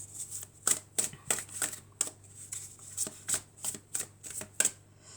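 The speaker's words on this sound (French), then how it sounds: "On va encore mélanger." Tarot cards being shuffled by hand in a series of crisp riffling bursts, roughly a dozen quick flicks with short pauses, close and fairly quiet, with no talking.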